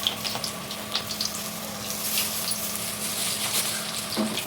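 Balls of cabbage manchurian dough drop into hot oil and fry with a dense, steady bubbling hiss, close and fairly loud, with faint handling knocks and no speech.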